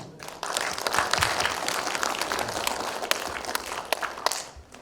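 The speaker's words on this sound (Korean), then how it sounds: "힘찬 격려의 박수를 다 함께 보냅시다" Warm audience applause at a Korean regional literature conference, many hands clapping in a dense, sustained patter that builds quickly and carries on for several seconds with a few sharper claps standing out.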